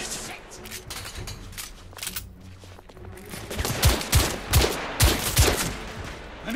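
Repeated gunfire bursts from the video game The Order 1886 on PS5 rattle through a continuous battle din. Voices are mixed in, and the shots grow louder and more rhythmic toward the end.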